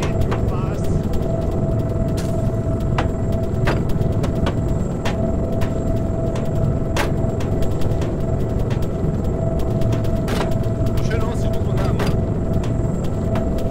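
Helicopter rattling in flight in the ARMA 3 video game, a continuous loud rotor and engine drone with sharp rattling clicks scattered through it.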